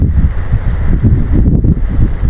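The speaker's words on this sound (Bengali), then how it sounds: "এই যে বাতাস দেখতে পাচ্ছেন যে গাছের পাতাগুলো একদম" Strong gusting wind beside a river in Chittagong, loud buffeting roar across the microphone that continues without a break, with boats and fishermen nearby.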